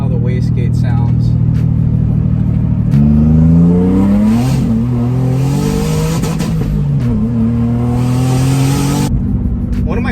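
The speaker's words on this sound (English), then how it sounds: "when the wastegate opens here, let me give you a little taste of how the wastegate sounds" A 2003 Nissan 350Z with a built motor and custom Garrett GTX3582R turbo kit revs loudly up close, the rising engine note joined by a broad airy whoosh as the wastegate opens and bleeds off boost.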